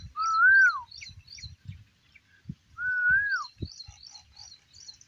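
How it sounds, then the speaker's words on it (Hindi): An Asian koel calls outdoors in cool breezy open air, giving two clear rising whistled notes a few seconds apart. Quick chirps of smaller birds and low rustling and knocks sit beneath them. "कोयल भी आवाज़ दे रही है आपको।"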